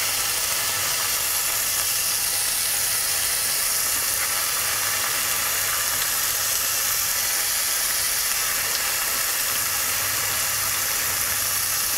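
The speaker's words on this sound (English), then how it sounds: "So remove the prawns, add them to the pan, making sure not to take too much of that marinade. We don't want them to stew, we want them to fry." Marinated prawns frying in a hot pan make a steady, even hiss and sizzle that holds at a constant level for the whole stretch, with a faint low hum underneath and no voices.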